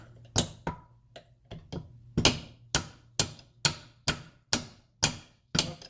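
A hammer strikes a clamshell bushing on a Toyota 7.5-inch differential. About a dozen sharp metallic blows land close by at a fairly steady pace, each one ringing briefly, with nothing else between them.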